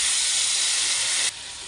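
Spice paste of ground cumin, turmeric and salt sizzles loudly in a pan with fried potatoes, a steady bright hiss that drops slightly in level near the end, with no talk.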